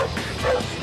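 A search and rescue dog trained for earthquake rescue gives a brief, loud yipping bark, close by and over a noisy background.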